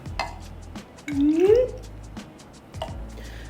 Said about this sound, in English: All right, so I'm gonna put in the water.